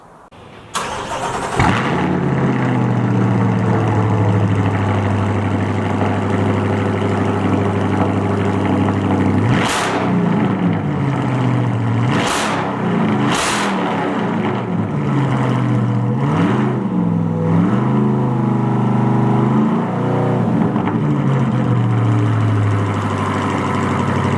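A 2020 Chevrolet C8 Corvette engine with a new Soul Performance exhaust cranks and fires up, then idles with a deep burbling exhaust, punctuated by several sharp revs around the middle before settling back to a steady idle.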